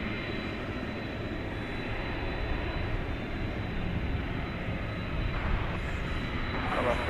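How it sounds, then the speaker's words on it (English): A Boeing 757 airliner at DFW airport at night gives a sustained, loud engine roar that holds steady and swells slightly toward the end, broad and rumbling, with no voices over it. "here goes the 757 to Ontario, California"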